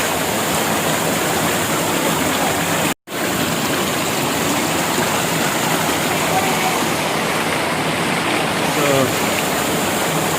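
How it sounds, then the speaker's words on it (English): A waterfall near Robber's Cave at Gucchupani in Dehradun gives a steady, loud, close rushing roar of falling water that fills the whole stretch, broken only by a momentary dropout. "There is a waterfall just in front of us. We are going to see it."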